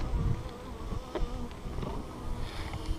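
Honey bees buzz continuously around an open top bar hive during a September inspection, a close, steady hum with individual bees droning past, and no talking.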